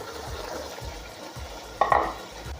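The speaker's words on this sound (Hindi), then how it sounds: "अब मैं इसको चम्मच चलाऊँगी अच्छे तरीके से" A spoon stirs garlic-ginger paste in a cooking pot for chicken salan, making soft, steady scraping strokes at close range with a sharper clatter near the end.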